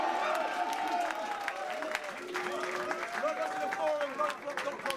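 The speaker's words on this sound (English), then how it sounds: "One more time, crowd. Please make some fucking noise." Applause and cheering from a live rap battle crowd, a steady wash of clapping and hubbub heard from a distance, fairly faint, with some voices rising through the noise.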